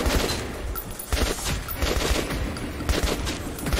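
Rapid gunfire and bursts of shots in the post-apocalyptic shooter game Metro 2033, dense and continuous with loud cracks throughout, no talking.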